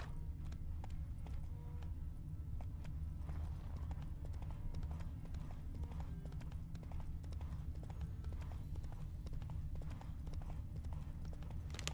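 Roach the horse galloping in The Witcher 3, rapid rhythmic clip-clop of hooves running continuously and loudly up close, with faint snorts mixed in.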